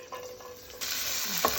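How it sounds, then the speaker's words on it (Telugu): Onions dropped into hot oil for chicken fry piece biryani, a close broadband sizzle that jumps louder partway through and keeps hissing steadily, with light stirring clatter. "ఆయిల్లో ఆనియన్స్ వేస్తాం,"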